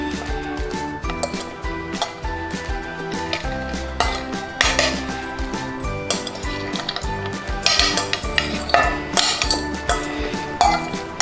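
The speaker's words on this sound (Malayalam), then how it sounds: "ഇനി നമ്മൾ എടുത്തു വെച്ച എല്ലാ പച്ചക്കറികളും ഒരുമിച്ച് ഇതിലേക്ക് ഇട്ട് കൊടുക്കാം" Chopped vegetables tumble into a salad bowl along with lettuce, with a busy run of clattering, clinking and rustling as pieces and utensils knock against the bowl, close and fairly loud, with no talk.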